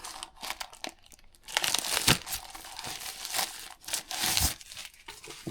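Plastic packaging and paper inserts crinkle and rustle steadily as hands dig through a DJI Mini 3 drone box, with bursts of crumpling and tearing close up.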